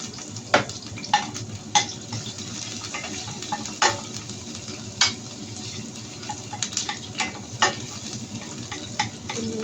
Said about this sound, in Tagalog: Okay, gigisa na natin ang onions.